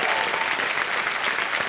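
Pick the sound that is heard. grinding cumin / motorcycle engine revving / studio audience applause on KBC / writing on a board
studio audience applause on KBC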